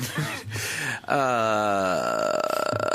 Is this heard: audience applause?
no